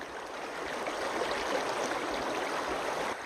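Creek water flowing steadily during a gemstone prospecting expedition, a broad even rushing and gurgling close by with no voices.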